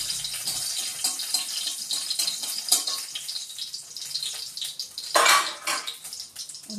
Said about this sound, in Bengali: এখন ধুয়ে কেটে নেব